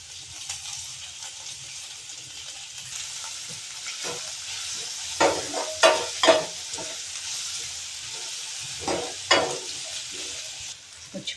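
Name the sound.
frying peas and chili in a pan for a veg sandwich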